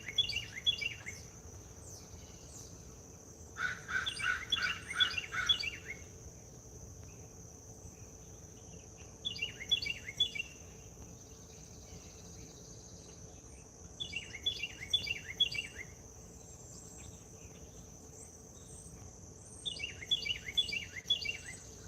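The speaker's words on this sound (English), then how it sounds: "that's a bird that got really loud" Birds calling loudly outdoors on a morning in nature, repeated bursts of shrill chirping phrases every few seconds over a steady insect-like hum and background noise.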